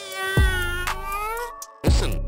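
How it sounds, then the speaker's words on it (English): A cat meow from a farm toy, a long, drawn-out, wavering tonal cry with a bending pitch, followed after a brief gap by the start of a second meow, close and fairly loud. "Listen to the cat."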